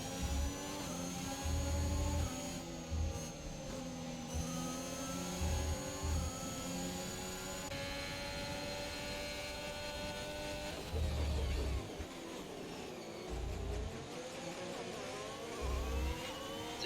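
Racing cars in a Spanish Grand Prix video game scream past with high, whining engine notes that rise and fall in pitch, overlapping continuously over a bed of low thumps, fairly quiet overall.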